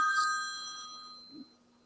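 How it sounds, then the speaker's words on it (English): A mobile phone ringtone sounds briefly: a bright electronic chime of a few ringing tones that decays and fades, fairly quiet in a still room. "my phone started ringing"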